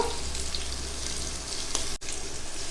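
Chicken sizzles steadily in hot oil with ginger garlic paste for a gongura chicken biryani, a continuous hissing fry with a short break near the end.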